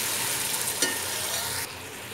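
Cabbage and capsicum being stir-fried together in a pan for beef chowmein, a steady close sizzle with a brief scrape near the middle, then quieting toward the end.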